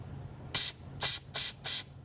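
Dirt bike carburetor accelerator pump, from a 450 dirt bike, squirting fuel in four short, crisp hissing spurts at an even rhythm, fairly close with a quiet low hum between them.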